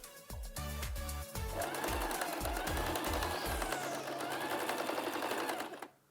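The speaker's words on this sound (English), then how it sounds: "Then we can just sew to attach the elastic." A sewing machine stitches elastic onto a fabric mask, first in a few short rhythmic bursts of needle chatter, then in a long steady run that stops abruptly, close and clear.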